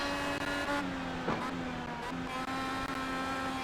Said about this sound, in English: they're racing hard, and they're side by side up in front of Colton Herta